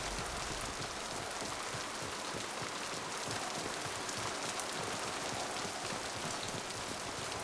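Heavy rain falls in Mass Effect 2, a loud, constant hiss of dense drops spattering surfaces, unbroken throughout with no voices.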